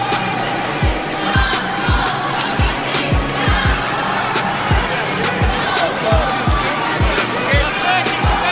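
Crowd of supporters shouting and roaring throughout at a boxing match with an undefeated Russian boxer against a Filipino, a steady loud hubbub punctuated by heavy, regular thuds.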